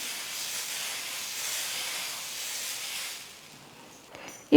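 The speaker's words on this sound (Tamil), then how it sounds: "லோ ஃப்ளேமில் வச்சுட்டு மாவு ஊற்றிக்கணும்." Dosa batter poured onto a hot stone griddle over a low flame gives a steady, fairly loud broadband sizzle and hiss that fades toward the end, with no talking.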